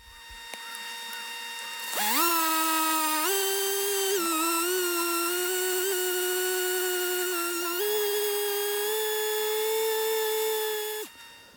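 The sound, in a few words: random orbit sander with soft interface pad sanding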